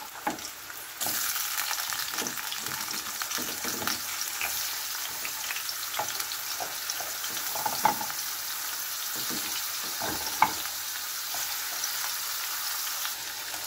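Carrots and potatoes fry in hot oil in a pan for chicken afritada, giving a steady, close sizzle throughout with occasional faint clicks of stirring.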